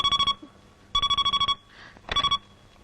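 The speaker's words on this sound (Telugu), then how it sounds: "ఈ ఫోన్ నాకు డాడీ." A telephone rings in a Telugu film scene, giving three clear bursts of bright trilling rings separated by short pauses, loud and close.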